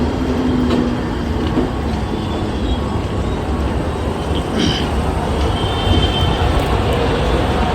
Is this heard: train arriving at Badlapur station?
yes